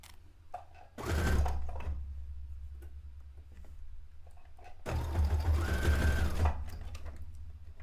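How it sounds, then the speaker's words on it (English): A sewing machine stitches a recreation of Princess Leia's white dress in two loud bursts of rapid mechanical whirring, each lasting about one to two seconds, separated by quieter handling sounds. "Again, we're at the sewing machine"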